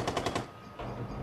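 Light machine gun fire in Rainbow Six Siege console gameplay: a quick burst of four rapid shots, then a short pause and another sustained stretch of firing, moderately loud with no talk.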